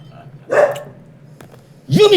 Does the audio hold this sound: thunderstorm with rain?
no